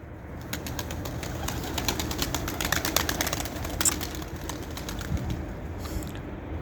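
Young pigeons, apparently sick, in a coop give soft continuous cooing and rustling, with a brief burst of wing flapping near the middle, close by and steady throughout.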